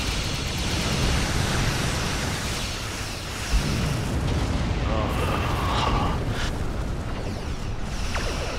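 Photon torpedo explosions in a Star Trek video game, a dense, roaring wash of booming blasts and rumble that stays loud and continuous throughout, with a brief thump in the middle.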